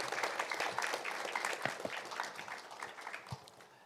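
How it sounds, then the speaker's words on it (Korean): A seated symposium audience claps together in a sustained round of applause, dense overlapping hand claps heard close and fairly loud, steady for a few seconds before thinning slightly. "우리 이렇게 말씀하신 노무현 대통령께 박수 한번 보내주시고 끝맺겠습니다."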